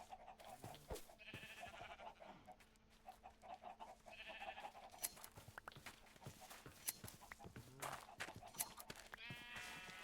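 Sheep in Minecraft bleat several times among scattered clicks and footsteps, the short wavering cries spaced apart and fairly quiet over a soft background.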